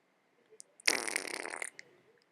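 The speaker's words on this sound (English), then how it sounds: "Fart." One drawn-out, rasping fart lasts almost a second, heard alone and fairly quiet with a couple of small sputters at its edges.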